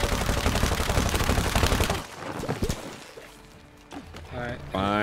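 Rapid automatic gunfire from a machine gun in the It Takes Two co-op video game, a dense loud burst for about two seconds, then scattered impacts and game effects with a voice talking near the end.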